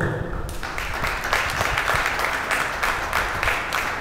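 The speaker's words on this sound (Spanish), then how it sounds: "Pido un fuerte aplauso para este joven." Spectators at a Paso Fino horse show in Trujillo clap for a young rider after a children's riding competition. The clapping is fairly loud and uneven, with scattered sharp claps over crowd noise.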